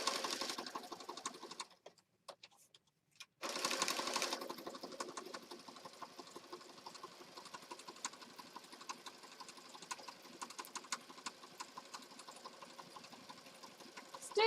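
A sewing machine stitching fabric for a handmade journal, a faint, steady mechanical whirr and ticking that stops briefly for a couple of seconds, then runs on evenly.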